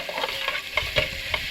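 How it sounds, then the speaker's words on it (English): Onions get stirred in a sizzling pot over a campfire, the spoon scraping in a few soft irregular strokes over a quiet frying hiss close by. "so let's just stir this."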